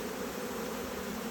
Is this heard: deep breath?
no